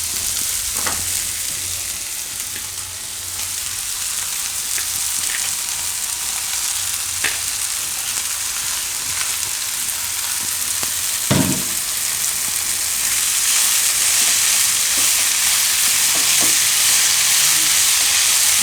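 Onion and spinach fry in a pan with a loud, continuous close-up sizzle, occasional stirring knocks, and a hiss that swells slightly louder toward the end.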